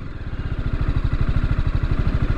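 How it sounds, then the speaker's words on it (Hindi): A TVS Apache RTR 310 motorcycle engine with unstable RPM runs close and loud, its rapid firing pulses throbbing in a steady but slightly uneven beat, with no voices over it. "तो ये देखेंगे आप जैसे अनस्टेबल RPM इसमें है"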